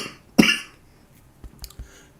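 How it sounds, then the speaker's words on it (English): A single sharp cough bursts out near the mic, followed by a few faint clicks and small movement sounds in an otherwise quiet room. "Bit of a cough."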